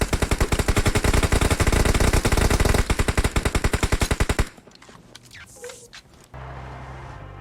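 Rapid bursts of automatic gunfire rattle loudly for several seconds, then stop, leaving quieter rumbling and muffled game sounds.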